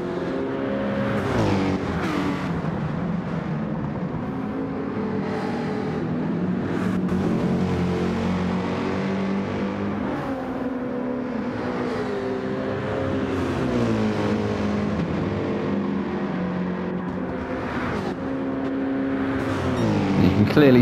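An AMG race car engine roars steadily in Gran Turismo 7 during a BTCC replica league race, its harmonic drone rising and falling with shifts and revs throughout, loud and continuous, with faint commentary voices underneath.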